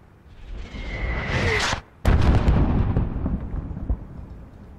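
Mortar shell explosions in Call of Duty: Modern Warfare, a rising whistle followed by a sudden heavy blast and a long rumbling tail, with battlefield noise underneath, loud and close.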